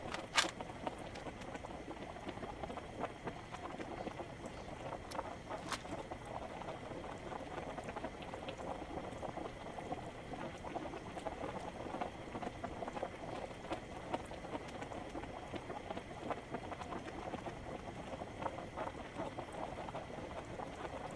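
Food cooking over a campfire in the video game DayZ, a soft steady bubbling sizzle that stays faint and continuous throughout, with no talking.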